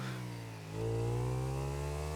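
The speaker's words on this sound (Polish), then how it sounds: "W ogóle ten motor tak pierdzi jak piździk, a nie jak motor." A motorcycle engine in the Tomb Raider 3 video game idles with a buzzy tone and then revs up and holds a higher steady pitch, loud and close with no talking.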